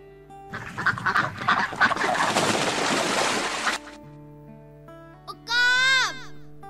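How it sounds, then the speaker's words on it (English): A mallard duck gives a loud, harsh run of quacking lasting a few seconds, followed after a pause by a short, higher call, all over soft sustained musical tones. "Duck, mallard."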